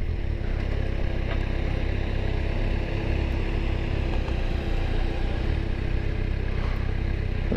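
Steady engine drone of a Kawasaki Versys 1000 motorcycle being ridden, with continuous wind and road roar at an even level and no talking.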